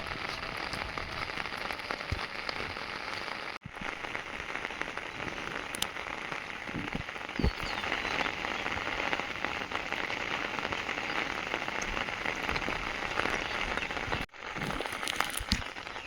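Monsoon rain hisses down steadily in a dense patter of drops on surfaces, fairly soft, with a few sharper splashes and brief dropouts, no speech.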